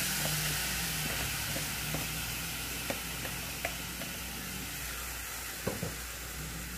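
Rice frying in a pan gives a steady, moderate sizzle and hiss, with occasional light clicks of stirring scattered through.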